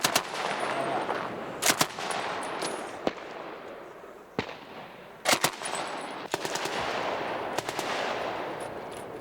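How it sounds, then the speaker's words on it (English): Soldiers fire blank rounds during a training exercise, with loud bursts of rifle and machine-gun fire cracking out in clusters between stretches of rustling outdoor background. "The men are only firing blanks, but their surprise has worked."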